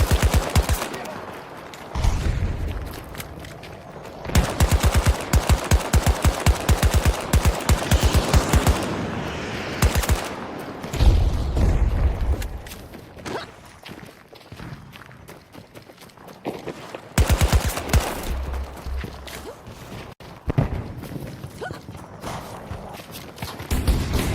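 Bursts of automatic VCAR rifle fire in a first-person shooter video game, rapid rattling strings separated by short pauses and quieter stretches of movement, with some footsteps between volleys.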